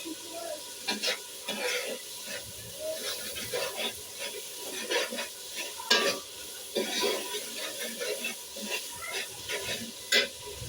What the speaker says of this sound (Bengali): মশলাগুলো কষাতে হবে, কষালে তখন তো একটা সুগন্ধ বের হবে।